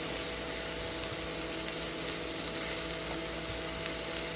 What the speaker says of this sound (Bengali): আমি অল্প তেলের মধ্যে একটু ভেজে নিচ্ছি